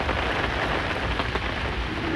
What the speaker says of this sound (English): there's a wall of like really heavy rain coming in right now.